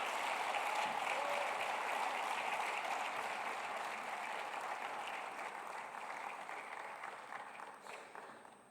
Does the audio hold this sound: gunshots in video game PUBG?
no